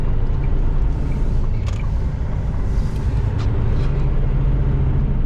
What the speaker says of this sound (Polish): Ciężaróweczką śmiga się elegancko, jak błyskawica.